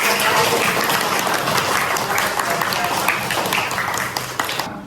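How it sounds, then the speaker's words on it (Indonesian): A classroom of students gives hearty applause for a student group, a dense, steady wash of clapping that holds loud throughout and thins slightly near the end. "Sekarang beri aplaus yang meriah untuk kelompok rukun."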